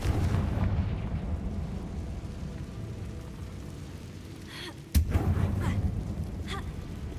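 A Confringo spell explosion in the Hogwarts Legacy video game lands as one sharp blast near the five-second mark, set against a rumbling game background.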